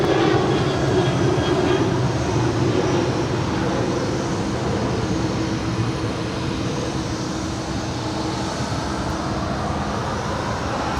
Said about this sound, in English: Zippy making that left-hand turn on the taxiway to Lima.